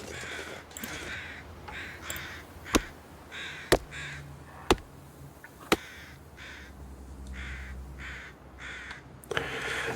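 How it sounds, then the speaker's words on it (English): In The Long Dark, at Mystery Lake, a crow caws repeatedly in a steady series, with a few sharp clicks scattered between the calls. "I think it was just a bird."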